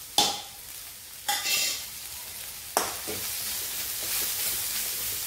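Breadfruit fries in a pan as spice powders such as Kashmiri chili, pepper and fennel are stirred in, with three sharp utensil scrapes over a continuous close sizzle.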